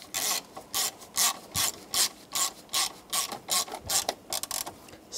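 Hand ratchet tightening screws on a 1999-2006 Chevrolet Silverado 1500 steering column during turn signal lever replacement, giving a quick run of close, crisp clicking bursts in an even rhythm, with no voices.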